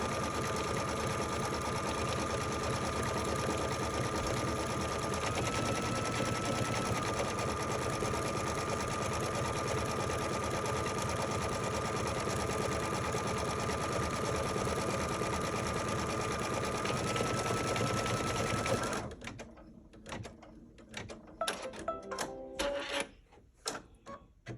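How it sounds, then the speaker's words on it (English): An embroidery sewing machine stitching a tie tack down line on leather, a continuous fast mechanical whir and rapid needle chatter, loud and close, that stops near the end and gives way to a few handling clicks and knocks. "So I'm stitching the tie tack down line."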